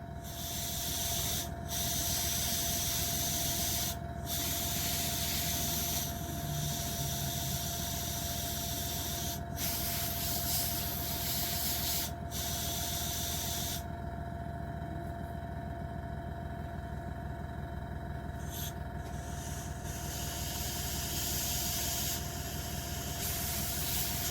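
Infinity CR Plus airbrush with a 0.2 nozzle spraying paint onto a model kit, a loud steady hiss that cuts out briefly several times between bursts.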